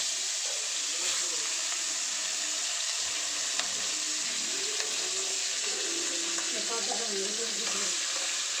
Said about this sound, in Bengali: এবার আমি কই মাছগুলো এক এক করে ভেজে নেব।